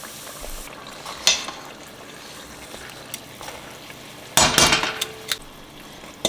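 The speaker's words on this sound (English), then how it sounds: "then you just gonna drop it in. Fry for about 2 minutes." A chimichanga frying in hot oil at about 350 degrees, a faint steady bubbling hiss with a sudden louder burst of sizzle and clatter partway through, then settling back down.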